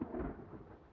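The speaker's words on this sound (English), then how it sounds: "And it's thunder." Thunder in the survival video game The Forest: a brief, faint, low rumble with a rain-like hiss, heard alone.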